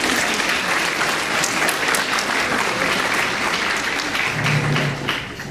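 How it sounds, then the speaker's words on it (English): Loud sustained applause from the audience at a debutante ball, dense steady clapping from a large crowd lasting several seconds before easing slightly at the end. "Give them another round of applause"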